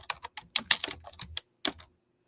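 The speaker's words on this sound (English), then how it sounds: "I hear tapping keys" Keys on an old Dell Gateway computer keyboard are tapped in a quick, uneven burst of close clicks, followed by a pause and a couple of final taps.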